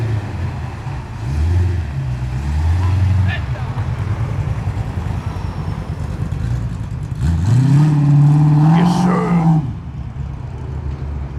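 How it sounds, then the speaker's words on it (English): A Holden car with a cammy engine revs loudly as it arrives at a car show, a lumpy, rising engine note swelling near the end over crowd chatter and talk. "Got a nice engine under that. Sounds very cammy."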